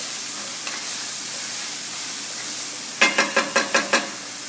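Fresh sage leaves sizzling in a hot pan for a pumpkin sausage pasta, a soft steady frying hiss, with a quick run of about six light knocks or stirring taps near the end.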